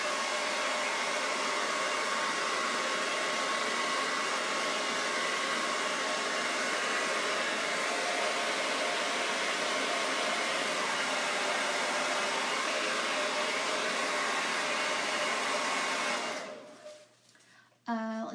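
A hair dryer blows steadily to dry paint on a pumpkin, a loud constant whooshing roar lasting most of the span before cutting off near the end.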